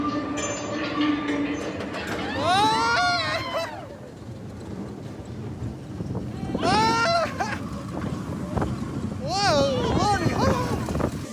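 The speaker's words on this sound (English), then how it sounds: "about to get on the Seven Dwarfs Mine Train." The Seven Dwarfs Mine Train roller coaster at Magic Kingdom rumbles along its track with a steady rolling roar, broken three times by bursts of rising and falling squealing cries from riders close by.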